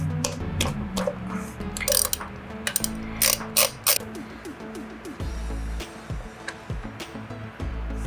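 A hand ratchet clicks in quick bursts while working on the primary cover of a Harley Davidson Softail, close and crisp, with metallic clinks and short pauses between runs of clicking.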